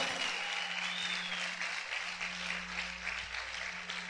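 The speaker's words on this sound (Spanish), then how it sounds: "¿Cuántos pueden aplaudir fuerte al Señor?" A crowd applauds steadily, a dense wash of clapping that continues throughout at moderate loudness with a low hum underneath.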